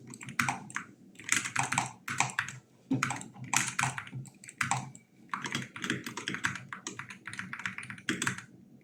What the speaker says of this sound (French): Je maltraite mon clavier. J'appuie très fort sur les touches.